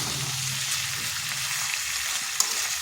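Pumpkin vegetarian curry with a pinch of sugar sautés in a hot pan, giving a continuous close sizzle and crackle with a brief stirring scrape.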